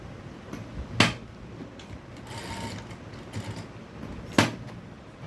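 A sewing machine stitches a blouse with a soft whirring run between two sharp clunks, the motor hum faint and close against a quiet room, with no talking.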